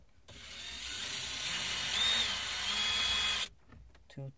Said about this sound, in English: now I'll try to unscrew these 2 Torx